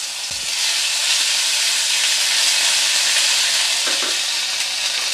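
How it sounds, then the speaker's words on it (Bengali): Asafoetida and ginger paste sizzle in hot oil over a low gas flame for a Bengali moong dal with lau shak, a steady, loud, bright hiss with a couple of soft stirring knocks. "একটু হিং ফোড়ন দেব, একটু আদা বাটা দেব, সামান্য একটু আদা বাটা দিলাম।"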